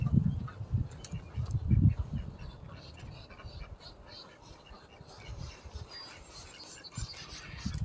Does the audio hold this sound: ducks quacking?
yes